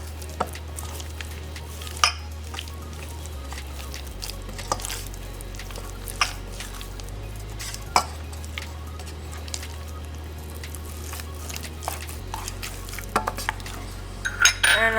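Egg being mixed into warm churro dough in a pot, with a spoon clinking and scraping against the pot in irregular knocks and soft squishing, up close with no talking.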